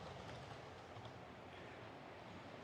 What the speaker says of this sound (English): I've got this green and black passenger train going as well